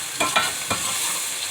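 Onions sizzle softly in a pan while being stirred, with a few brief scraping bursts over a steady hiss, close and fairly quiet.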